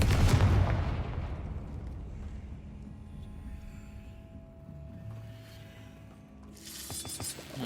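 A Confringo fire spell in Hogwarts Legacy bursts with a loud, close boom at the start, then gives way to a lower rumbling tail and quiet game ambience, with a fresh burst of noise near the end.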